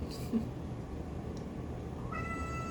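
Near the end a pet cat lets out a single faint meow in the background, set against steady low room noise.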